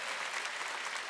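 A church congregation claps at a Sunday worship service, a dense, even wash of many hands applauding together, moderately loud and steady for about a second with no pauses.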